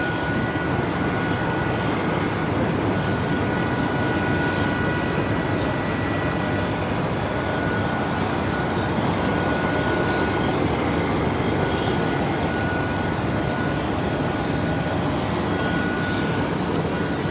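A Capital Airlines Airbus A330 arriving at Melbourne Airport, a steady broadband engine roar held at a constant level for the whole stretch, with no talk over it.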